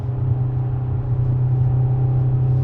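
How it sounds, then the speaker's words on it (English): Volkswagen Golf Mk7 driven hard on the Nürburgring, heard as a steady, loud engine drone with a strong low hum and constant rumble, unbroken over a few seconds. "Mark 7 Golf chasing the new GTI or whatever it is."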